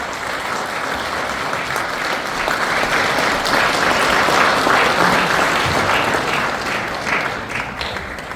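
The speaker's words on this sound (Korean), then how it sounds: "우리 총회장님 나오실 때 박수로 환영하겠습니다" A loud, sustained round of applause from a church worship gathering welcomes the preacher, a general assembly moderator, to the pulpit, with dense claps swelling in the middle and holding steady throughout.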